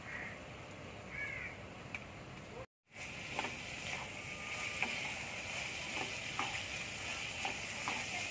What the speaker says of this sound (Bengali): ভালো করে মিশিয়ে নিতে হবে